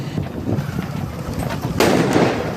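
Diwali firecrackers bursting outdoors during evening celebrations, a noisy crackle of distant pops and rumbles that swells into a louder, sharper burst near the end, with no talking.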